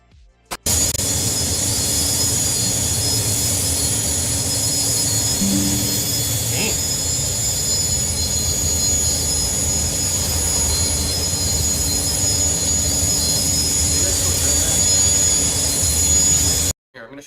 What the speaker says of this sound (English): I have my X-Wing in my world, and it's the engines just going like they're on all the time.